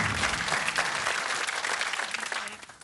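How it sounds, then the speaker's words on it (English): A game show studio audience applauds in a dense burst of clapping that holds steady and then fades out toward the end. "it's very polite to applaud every time they get an answer right"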